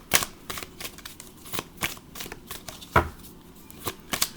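Tarot cards being shuffled by hand, a series of quick papery riffles and soft slaps in an irregular rhythm, close and fairly clear with no talking over them.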